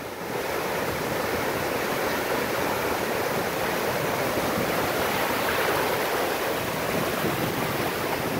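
Ocean surf washes steadily and loudly on a Texas beach, a continuous roar of breaking waves close by with no pauses, heard alone without voices.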